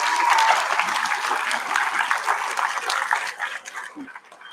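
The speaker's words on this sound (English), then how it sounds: "Clap it up for yourselves" Students at a school assembly applaud, a loud crowded clapping wash that fades toward the end, with scattered cheers.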